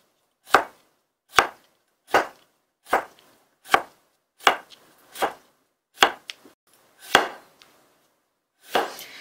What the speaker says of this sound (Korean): 이렇게 해서 오이 편을 다 썰었어요.